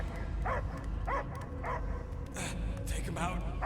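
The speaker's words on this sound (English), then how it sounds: "I hear only barking." A dog barking in the Guardians of the Galaxy video game, a few close yelping barks and whimpers spaced through the moment, mixed with game voices and background effects.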